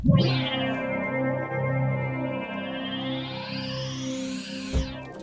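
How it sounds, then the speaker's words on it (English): A Roland Alpha Juno 1 synthesizer plays a bright, sustained patch with effects, a thick harmonic tone that sweeps slowly upward with chorus and echo shimmer before a brief low thump near the end. "Just a typical sound you would expect from a Juno 1"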